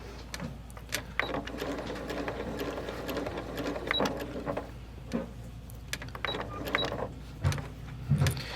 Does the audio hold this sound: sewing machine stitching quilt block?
yes